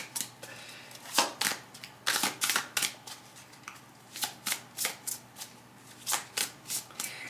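A deck of cards being shuffled during a tarot-style reading, a series of crisp riffling bursts and soft taps repeating in an irregular rhythm, close and clear with no talking.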